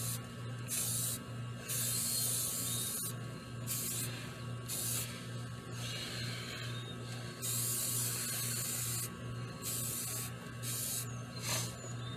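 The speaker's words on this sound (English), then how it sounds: "Make sure I've got everything done, sprayed. All the underside and everything." Aerosol primer sprayed onto a 3D-printed Aliens head, steady hissing bursts starting and stopping in close succession over a constant low hum, with no talking.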